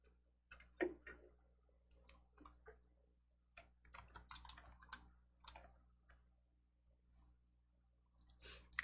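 Keys on a computer keyboard are tapped to enter a search word, quiet scattered clicks in short irregular bursts with a brief pause, then a final keystroke.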